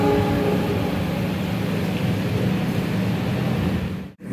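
A train at Pasar Senen station in Jakarta rumbles steadily and loud, a dense low roar with a faint engine hum, no one talking, until it cuts off abruptly at the end.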